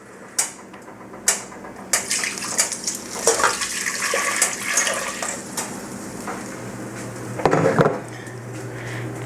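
Pickle liquid poured from a jar into a pot in a home kitchen, a splashing, gurgling stream with clinks of glass against metal, close and moderately loud, rising and easing in bursts.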